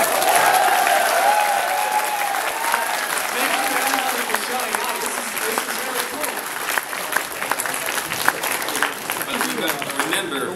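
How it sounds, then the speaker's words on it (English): A BronyCon 2019 convention hall audience applauds steadily for latecomers, a dense, even wash of many hands clapping that holds for about ten seconds, with some voices and shouts mixed in. "Can we like applaud for the people who are still coming in?"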